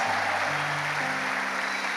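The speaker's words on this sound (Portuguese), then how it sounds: "dá uma salva de palmas ao Senhor aqui bem forte" Congregation applauding during a Catholic church service, a continuous broad roar of clapping hands with sustained organ or keyboard tones underneath.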